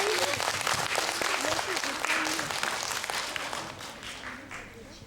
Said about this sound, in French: Si vous l'avez aimée, applaudissez.